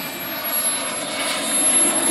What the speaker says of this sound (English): that's one fast landing